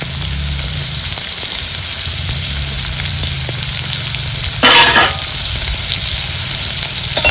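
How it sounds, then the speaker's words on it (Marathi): Chopped onion sizzles steadily in hot oil in a pan, a loud continuous frying hiss with a brief stirring burst midway and no voices. "आता ही चिरलेला कांदा घालून घेते. म्हणजे काय होईल चांगला कांदा आपल्याला तेलात येणार लालसर भाजून घ्यायचा आहे."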